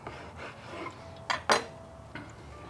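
A knife slices through a smoked pork roulade wrapped in bacon: three or four crisp, close cutting strokes against a board, separated by quiet pauses, with no talking.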